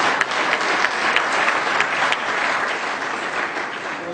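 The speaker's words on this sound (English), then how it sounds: "Give them a round of applause." Dense applause from an audience at a governorship election debate, steady and fairly loud throughout, many hands clapping together without pause.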